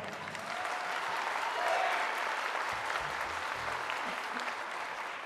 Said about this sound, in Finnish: Aplodeaan!